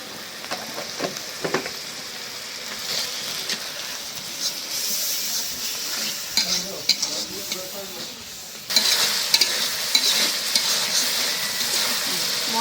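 Turmeric, chili, coriander and cumin powders fry with rice in a pan for bhuna khichuri. Steady sizzling runs throughout, with scraping stirs and utensil clinks, and it turns louder partway through.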